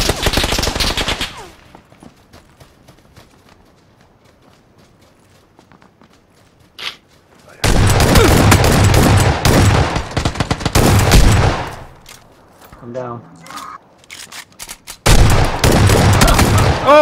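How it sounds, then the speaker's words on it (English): Gunfire in the video game PUBG, a rapid automatic burst at the start, then near silence with a faint shot, followed by long loud sustained bursts of close gunfire broken by short pauses. "Who's shooting? Who's shooting?"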